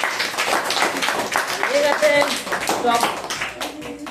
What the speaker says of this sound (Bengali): হাততালি সবার 3 জনের জন্য